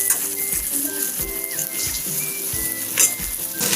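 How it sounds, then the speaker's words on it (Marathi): Chopped onion hits hot oil in a pan for a Maharashtrian-style drumstick curry, giving a steady, close sizzle with scattered spatula scrapes and small clinks against the pan. "कांदा टाकून घेते"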